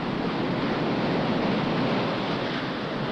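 Ocean surf breaks at Rincon, Puerto Rico, during a 1968 world surfing championship, a continuous loud, even roar of crashing waves with no voices.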